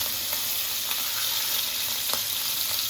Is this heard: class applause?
no